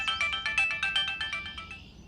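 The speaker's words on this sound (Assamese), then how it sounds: "পুতেৰৰ ফোন ধৰা" A mobile phone ringtone plays a bright, repeating electronic melody of quick pulsing notes, fairly close and steady, with no talking over it.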